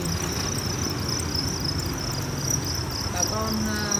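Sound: crickets at a cricket farm

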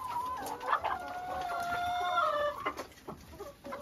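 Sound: chickens clucking on a farm

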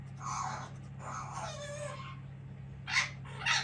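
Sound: child imitating a cat meowing

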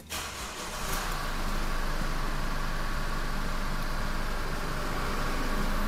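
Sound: Chevrolet S10 pickup engine running with stock exhaust

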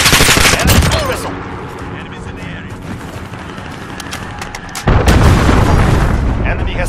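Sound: enemy missile strike in video game Call of Duty Modern Warfare

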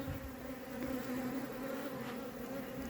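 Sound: honey bees buzzing around a hive

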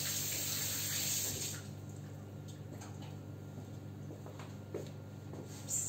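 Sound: water running from tap while washing hands

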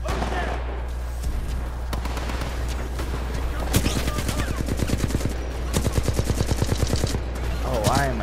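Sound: gunfire from the video game Titanfall 2

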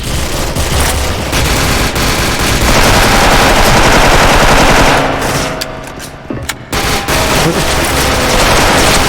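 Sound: DISCO M4A1 rifle gunfire in a video game

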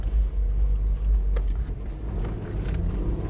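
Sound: Toyota Land Cruiser Prado 120 engine straining in second gear

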